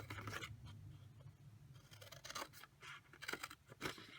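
Scissors snip through paper box flaps for a square flat-fold Christmas mystery box, making a few quiet, close crisp cuts and rustles in short irregular bursts.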